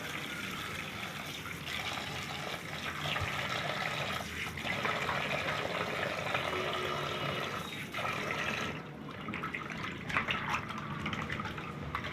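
Hot water running and splashing over fish being washed by hand, a steady close rush of water with occasional drips and shifts as the fish are rinsed, continuous throughout.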